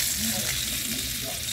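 Dried salted fish frying in hot oil, a dense, steady crackling sizzle that fills the whole moment, close and loud with no talking over it.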